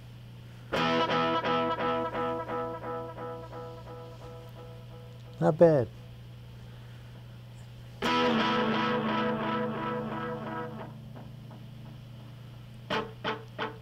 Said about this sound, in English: here's the basic sound with the echo turned on